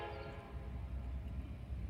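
An eastbound intermodal freight train approaching a crossing at Oak Harbor, a steady low rumble with a sustained horn tone over it, moderately distant and continuous.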